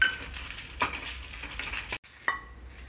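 Dried red chilies dry roasting in a pan, close scraping and stirring strokes with soft crackle, briefly cutting out before one last scrape.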